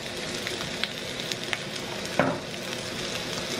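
Beef shank searing in oil in a pan, a steady dense sizzle with a few sharp pops and crackles, close and fairly loud with no voices.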